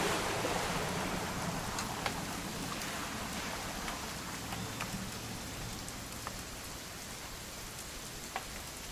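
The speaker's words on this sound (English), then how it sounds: "It's gonna rain the whole weekend" Steady rain in the video game What Remains of Edith Finch, a dense even hiss of drops falling on surfaces with a few sharper drip ticks, continuous and close with no talk.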